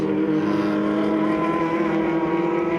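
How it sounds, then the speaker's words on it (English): A Huffaker Genie-Alfa vintage race car with an Alfa Romeo engine races at the Sonoma Speed Festival, its engine a loud, steady, close drone held throughout without a break. "The car you're looking at leading the race at the moment anyway is chassis number 12"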